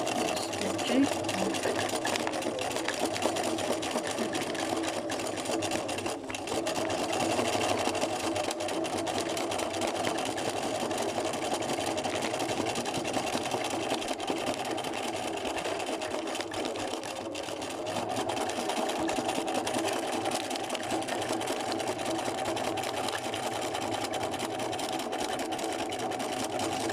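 A sewing machine stitches fabric in a steady, continuous whirring rattle lasting throughout, with a person talking over it at times.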